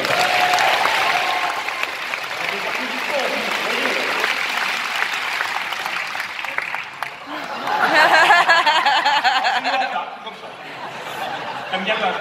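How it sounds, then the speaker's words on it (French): Audience at a French stage show applauds a participant named Yves, sustained clapping mixed with chuckles and chatter, swelling again near the end under a speaking voice. "Yves, applaudissements pour Yves."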